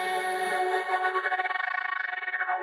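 Two wash tracks swell into a wide, airy synth wash that develops a rapid fluttering tremolo as it fades downward, alone and fairly loud, over under three seconds.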